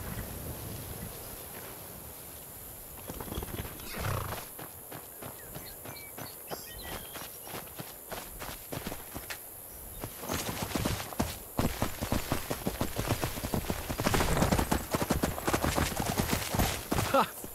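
Horse hooves clip-clop in Skyrim, a run of rhythmic hoofbeats that grows louder and quicker toward the end over wind noise.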